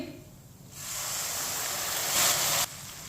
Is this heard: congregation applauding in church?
no